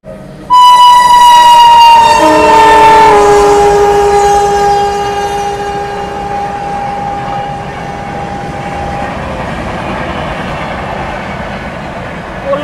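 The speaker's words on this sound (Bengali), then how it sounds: "কাশী বিশ্বনাথ এক্সপ্রেস" The Kashi Vishwanath Express, running on the Kolkata to Jammu Tawi route, sounds a loud, sustained horn close by that slowly fades, followed by the steady rumble of the moving train.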